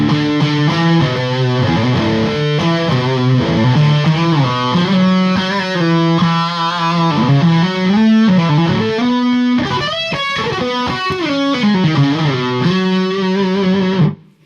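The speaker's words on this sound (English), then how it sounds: "If you do have a clean tone, you just crank that distortion all the way up and crank the tone down" Electric guitar played through a distortion pedal with the distortion cranked all the way up and the tone turned down, sustained chords and riffs ringing loud and continuous for several seconds before stopping abruptly.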